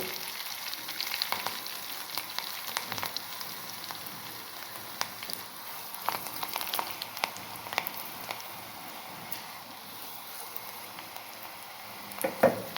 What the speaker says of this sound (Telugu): తర్వాత ఈ పోపు పెట్టుకుంటున్నాం మనం.